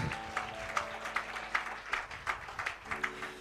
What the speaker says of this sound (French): Put your hands together for the word.